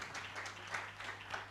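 An audience at a neurosurgery symposium applauding surgeons, a short burst of scattered clapping heard faintly from across a hall.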